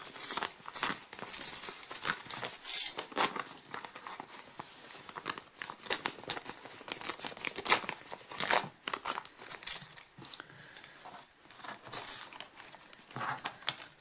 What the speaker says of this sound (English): now we're just going to tear the tearaway stabilizer from around